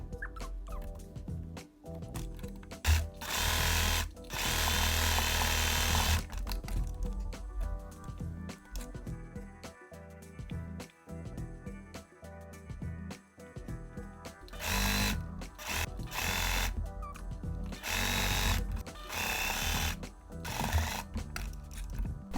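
Sewing machine stitching a French seam on tulle fabric, running in several bursts of varied length with brief pauses between, loud and close.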